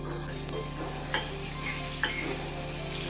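Chopped tomatoes sautéing in hot oil for dal tadka, with a steady soft sizzle and occasional scraping stirs of a spoon in the pan, close and alone.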